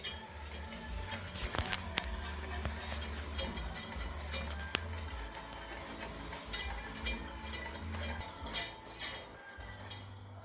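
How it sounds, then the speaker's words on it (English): A whisk clanks and scrapes against a metal pot in quick, uneven metallic ticks while something is stirred during cooking, close and fairly steady throughout with no talking. "This whisk is terribly clanky."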